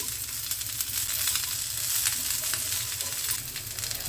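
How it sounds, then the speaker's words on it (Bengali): Roselle chutney being stirred in a pan, a continuous close sizzle with soft scraping strokes over about four seconds, no voices. "ভালো করে নেড়ে দিই"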